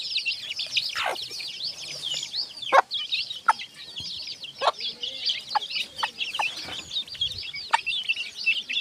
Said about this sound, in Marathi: पहा मित्रांनो कशी खात आहे कोंबडी